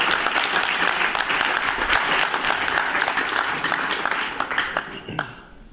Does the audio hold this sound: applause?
yes